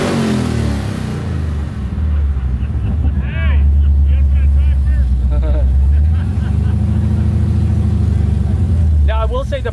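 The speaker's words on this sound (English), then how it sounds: "Rev it up. Here's the supercharger." A Mazda Miata fitted with a supercharged Hellcat engine revs and roars with a supercharger whine rising over it, loud and close, while people talk and exclaim excitedly over the noise.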